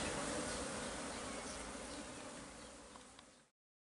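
A dense, steady buzzing of many bees close by, a continuous droning hum that fades a little before cutting off.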